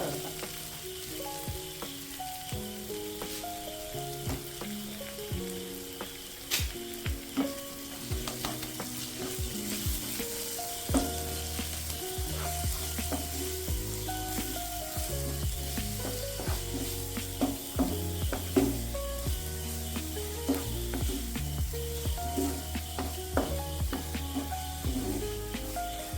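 Fish coated in a turmeric, chilli, green chilli and ginger masala sizzles steadily in a pan, with the frying hiss holding at an even level throughout and tonal music playing beneath it.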